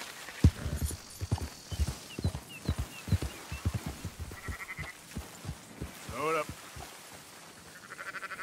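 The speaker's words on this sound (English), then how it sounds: "Marston, why don't you leave the sheep to me?" Sheep bleat and horse hooves clip-clop on a ranch in Red Dead Redemption 2, a steady stream of short hoof knocks mixed with several scattered bleats and a loud nearby bleat, with faint game speech underneath.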